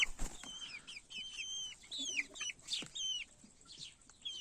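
Chickens and roosters cluck and call in a farmyard coop, a string of short, sharp squawks at moderate distance over quiet background noise.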